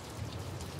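Water drips from rock overhead inside a cave like steady rain, a dense close patter filling the whole short moment with no talking.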